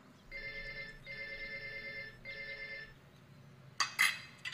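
A telephone rings in a house in three clear bursts of a bright electronic ring with short gaps between, moderately loud, followed by a couple of sharp clattering handling sounds.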